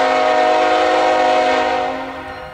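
A CSX freight train sounds a loud, sustained multi-chime horn blast at close range, the chord holding steady before starting to fade as the train moves past.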